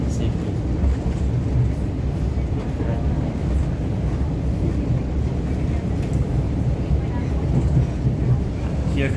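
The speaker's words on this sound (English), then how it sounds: "And this train has to go slow for commuters and safety." A commuter train moves slowly along a damaged westbound track, its low, broad rumble running without break from start to end, close and steady in level.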